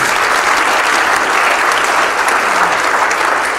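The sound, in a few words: audience applause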